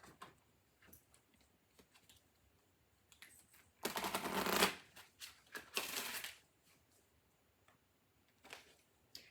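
Tarot reader drawing Halloween oracle cards, two bursts of papery shuffling and riffling in the middle, close and fairly loud, with faint ticks and taps before and after.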